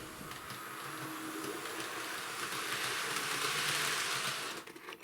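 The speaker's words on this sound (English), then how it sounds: "See, that buzz is horrible." Steady broadband buzz and hiss from a Hornby train set controller, continuous and fairly loud close up, with a faint rumble of the model train beneath and no talking.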